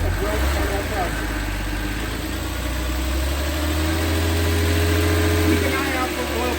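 A newly rebuilt car engine runs at a steady elevated idle around 2,000 RPM after its first start, a continuous low hum and rumble with a person talking over it.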